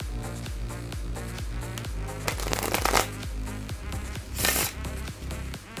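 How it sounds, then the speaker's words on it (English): A thin-stock Memento Mori deck of playing cards is riffled and bridged several times in a row, crisp rapid flutters with louder bursts, close and with no talking. "now we're gonna give the deck a shuffle."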